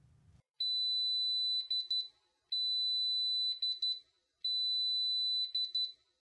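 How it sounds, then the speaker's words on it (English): Taylor TTi colorimeter timer beeping in three identical bursts, each a long high steady electronic tone followed by a quick flurry of short beeps, separated by brief silences, clear and close. "When the timer beeps, the instrument will read the sample and the result will be displayed."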